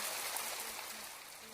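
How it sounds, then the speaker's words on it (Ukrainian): Rain beginning to fall in a video game, a steady soft broadband hiss like a stream or trickle that holds evenly throughout with faint tonal game sounds beneath. "Так, у нас пішов дощик, все хорошо у нас."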